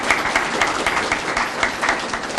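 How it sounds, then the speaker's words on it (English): A crowd applauds steadily throughout, with dense overlapping claps at a moderate distance, at a Department of Corrections event celebrating a new kitchen. "let's give him a round of applause"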